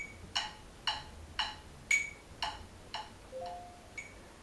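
A metronome clicking steadily at quarter note equals 116, about eight evenly spaced sharp ticks, fairly faint and isolated, with no voices.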